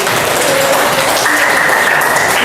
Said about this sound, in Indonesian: Wes, tepuk tangan Edric